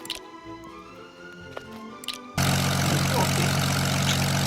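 Quiet clicks and a faint hum give way abruptly to a loud, steady airplane engine roar in a Roblox video game that continues to the end.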